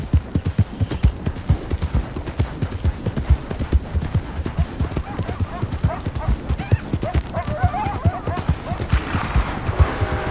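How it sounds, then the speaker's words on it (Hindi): Gunfire in the Red Dead Redemption 2 video game, rapid close shots crackling over steady hoofbeats of horses, with a brief musical flourish toward the end. "तो पास ही में गोलियां चल रही हैं."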